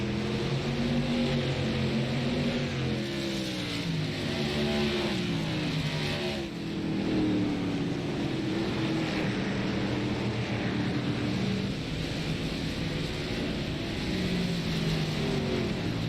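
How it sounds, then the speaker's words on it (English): Modified race cars roar around the Martinsville short track, a dense, continuous engine drone with pitch swells as cars lift and get back on the throttle through the turns, loud and sustained for the whole stretch. "You hear Carroll had to breathe the throttle just a little bit coming out of turn number 2."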